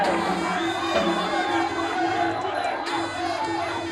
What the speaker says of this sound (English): See the Moroccan cheering section in full voice still.